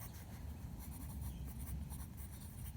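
A pen scratches and rubs softly on paper while a fantasy island map is being drawn and labelled, faint and continuous under low room noise.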